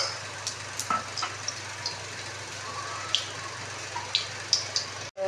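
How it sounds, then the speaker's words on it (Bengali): Cooking oil sizzles softly in a karai wok before anchovies are fried, a steady low hiss broken by a few sharp crackles and pops. "আমি কড়ায় তেল দিলাম, দেখো মাছটা ভেজে নেব।"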